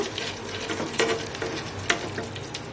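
Whole spices frying in oil for chicken biryani are stirred in a pan, a continuous light sizzle broken by several scraping strokes and utensil clicks at an unhurried rhythm.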